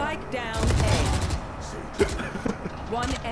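Rapid bursts of Valorant gunfire crackle in quick succession under excited talking voices.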